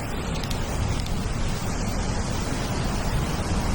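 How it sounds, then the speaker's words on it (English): Ocean waves roll in at Montana de Oro State Park, California, on a calm, nearly windless evening, a steady broadband wash of surf that fills the whole stretch with no talking. "These waves coming in."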